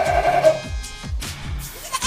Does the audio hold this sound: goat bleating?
yes